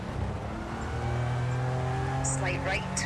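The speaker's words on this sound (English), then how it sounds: "pushing the car to its absolute limit." A rally car's engine is driven flat out on a fast stage in a rally racing game, a loud sustained roar with rising revs and gear shifts, a voice talking over it throughout.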